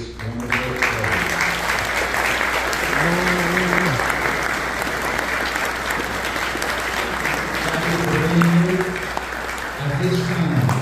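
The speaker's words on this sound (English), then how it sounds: "please rise and take a round of applause from this wonderful program." Banquet audience at an Epiphany dinner in Safety Harbor, Florida, giving sustained, steady applause while voices talk over it at intervals.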